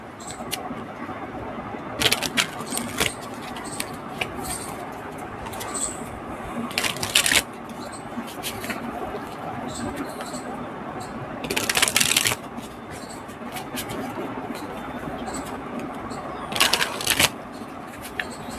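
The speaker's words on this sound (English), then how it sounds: "I'm shuffling the deck." Cards are shuffled repeatedly, with several distinct riffling bursts at intervals, each a quick crisp flutter over a soft background hiss.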